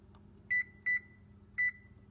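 Three short electronic beeps from an oven's control panel as it is set to 400 degrees, close and clear, evenly spaced with a longer gap before the third, over quiet room tone.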